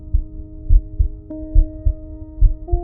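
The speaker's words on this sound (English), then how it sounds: "Her heartbeat echoed loudly inside her ears." A heartbeat sound effect thumps in a steady rhythm of deep double beats, loud and close, under a low sustained drone that shifts pitch twice.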